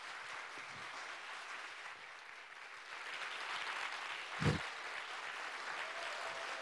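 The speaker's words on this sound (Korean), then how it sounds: "큰 박수 부탁드립니다." An audience at a Korean lecture concert series applauds as a professor and cultural critic takes the stage, producing a soft, distant, even wash of clapping that holds steady, with one dull thump midway.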